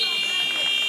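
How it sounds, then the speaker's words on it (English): A steady, sustained buzzer tone marks the end of the first period at a boys' high school wrestling match, Oregon versus Milton, sounding continuously over gym crowd noise. "There's the buzzer."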